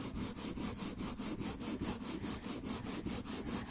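A kitchen knife is sharpened on an old refurbished oilstone with quick, even back-and-forth strokes. The close, gritty scraping repeats in a steady rhythm with no pause.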